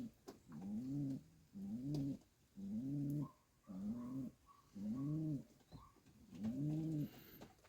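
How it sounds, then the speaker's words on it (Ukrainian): A pigeon hatched in 2023 coos six times in a slow, even rhythm, each soft throaty call separated by a short pause, close by and fairly quiet. "Оцей голуб, бачите, який він красивий"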